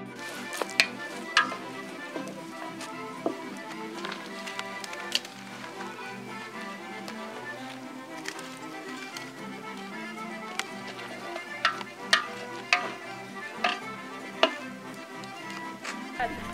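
Chopped onion dropped into oil in a pot while cooking a turkey cazuela with chuchoca, giving a steady close sizzle with scattered sharp clicks and stirring knocks throughout, and faint voices underneath.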